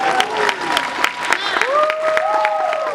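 Audience applause at a Six Flags Magic Mountain Fright Fest presentation during Midsummer Scream, steady clapping filling the room while a presenter's voice carries over it, with brief whistle-like tones.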